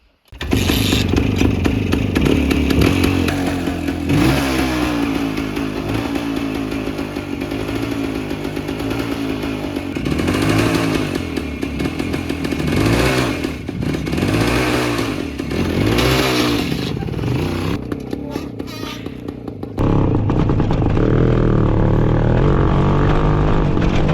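Motorcycle engine running after a gear is engaged, a loud close buzzing drone that rises and falls in pitch with repeated revs and holds steady throughout, with no talking.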